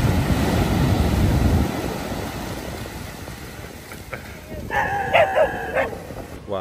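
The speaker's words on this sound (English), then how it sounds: "The horse getting terrorized by the dogs." Dogs bark at a horse on a beach in Bali, a few yips and barks at middle distance over steady surf and wind, with a voice speaking.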